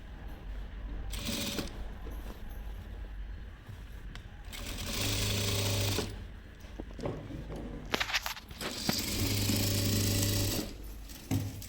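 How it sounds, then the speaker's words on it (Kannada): A sewing machine stitching a pant seam runs in two sustained whirring bursts, with a steady mechanical hum and needle clatter. Fabric rustles and handling noises fill the pauses between the bursts. "ಅದನ್ನು ಸಹ ನಾವು ಮಧ್ಯದಲ್ಲಿ ಹೊಲಿಗೆ ಹಾಕ್ಕೋಬೇಕು"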